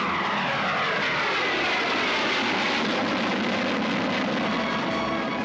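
Supersonic fighter jets pass over Tushino airfield with a loud, continuous roar that sweeps and shifts in pitch, heard alone without voices.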